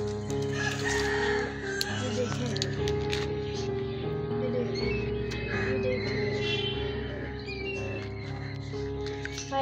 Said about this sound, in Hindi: मुर्गा मुर्गियाँ भी बहुत इंजॉय कर रही हैं